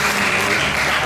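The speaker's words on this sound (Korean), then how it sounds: "박수 치지 마세요" An audience at a health lecture breaks into a brief, dense round of applause, loud and close, with no talking over it.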